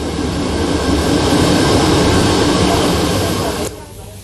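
A passenger train running on rails, a loud, steady rumble with broadband rattle that holds for over three seconds before dropping off sharply near the end.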